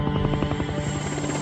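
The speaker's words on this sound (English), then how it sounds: "Coast Guard helicopters are sent out in search of the crash site." Coast Guard helicopters search for a crash site in the pitch-black night, a steady rotor thrum with rhythmic blade chop running continuously and fairly loud.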